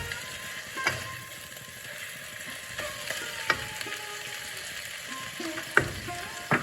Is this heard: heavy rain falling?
no